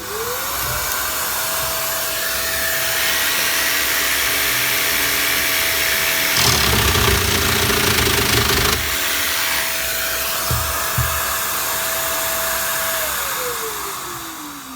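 Parkside PSTKA 12 A1 cordless 12V jigsaw with pendulum action, a loud sustained whirring motor with a burst of harsher cutting noise in the middle, spinning down at the end.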